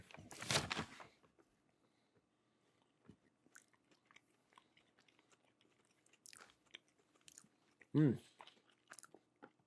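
Bites and chewing of cookie butter cups: a loud crunchy bite near the start, faint chewing sounds through the middle, then another sharp bite near the end, all close up.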